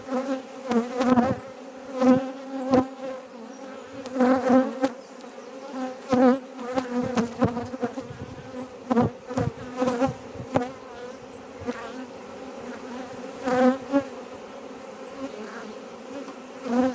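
A honeybee swarm housed three days earlier buzzes on a hive frame, a close, dense drone that rises and falls in uneven surges, with individual bees whizzing past.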